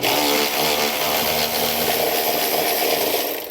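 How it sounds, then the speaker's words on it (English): A power tool with a 10mm socket whines loudly and close while it backs out exhaust hanger bolts under a 2019 Ford Taurus, a sustained buzzing drone that eases off at the end. "we're going to grab a 10mm socket and remove both of those bolts"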